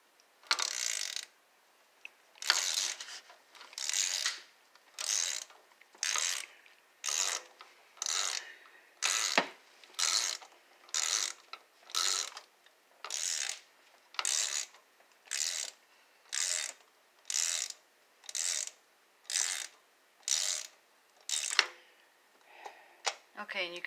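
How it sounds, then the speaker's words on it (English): Ratchet tightening spark plugs on a 2015 Chrysler 200 Limited, close and crisp, about twenty evenly spaced bursts of rapid clicking separated by short pauses, steady in rhythm throughout. "What you want to do is switch this now because you're tightening."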